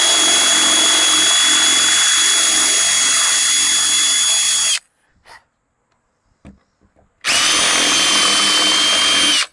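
A power drill whines steadily as it bores out a rivet on a 1983 Kenworth K100 cabover truck, running loud and close for several seconds, stopping briefly with faint clicks, then spinning up again.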